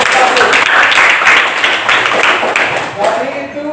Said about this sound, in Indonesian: Oke, kita tepuk tangan untuk kelompok 1.